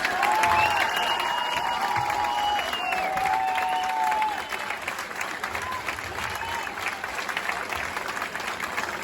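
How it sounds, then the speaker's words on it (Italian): Crowd applauding after a live performance of a Sardinian song at an outdoor festival, a full steady roar of clapping with some cheering and whistles, voices murmuring underneath. "Giacomo Bardeo, un altro applauso"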